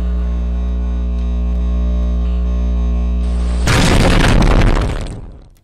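A pipe bomb goes off in a video game, one loud, sudden blast that cuts through a steady low electronic hum and then dies away over about a second.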